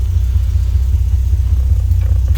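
A 1984 Alfa Romeo GTV with a 3.2L engine idles close by, giving a loud, steady low rumble with a slight pulsing throb and no talk over it.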